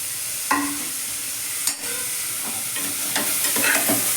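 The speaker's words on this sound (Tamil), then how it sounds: "இப்போ நம்ம திருவி வச்ச கேரட்டை போட்டுருவோம் நல்லா வதக்கணும் கொஞ்சம் நெய்யிலேயே" Grated carrot sautés in ghee with three cardamom pods, a steady close sizzle punctuated by a few sharp scrapes and stirs of the spoon against the pan.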